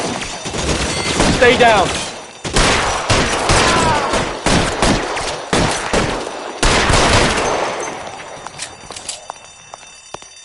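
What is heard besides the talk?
suppression gunfire in video game L.A. Noire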